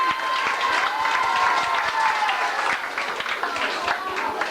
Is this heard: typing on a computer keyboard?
no